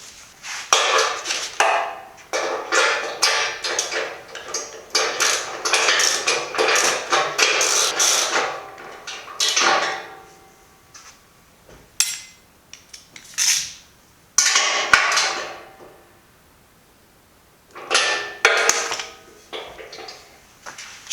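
A wrench tightens the parts of a BendPak 4-post car lift, giving rapid runs of metallic ratcheting clicks in bursts with brief gaps between them, close and fairly loud, with no talking.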